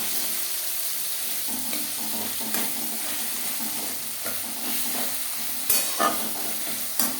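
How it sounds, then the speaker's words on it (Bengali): Garam masala stirred into onion and tomato frying in a pan for aloo chicken curry, giving a steady broad sizzle with spatula scrapes and a few louder knocks, close and without talk. "পেঁয়াজ টমেটোর সাথে বেশ ভালো করে মিক্স করে দেবো।"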